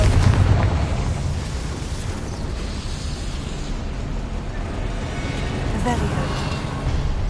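Confringo fire spell blasts in Hogwarts Legacy, a sustained rumbling boom of game explosions and crackle lasting several seconds, loud and dense throughout.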